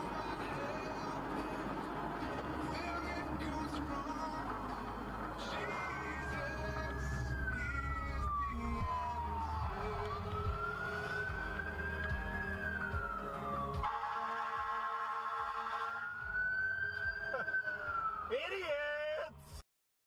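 Wailing emergency vehicle siren from traffic on an American road, rising and falling in long sweeps through the middle and end of the clip, loud over dense street and engine noise.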